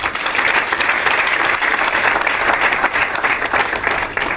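Steady, loud applause from a large crowd at the inauguration of a water treatment plant, sustained dense clapping for several seconds without a break.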